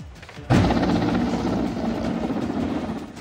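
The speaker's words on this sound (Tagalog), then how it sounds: "Ilang beses nagpaikot-ikot hanggang sa bumulusok ang helicopter na ito sa Amazonas sa Peru." A helicopter over the Amazonas region of Peru, spinning repeatedly before diving, roars in with a sudden loud onset and keeps up a steady, dense rotor and engine drone close by.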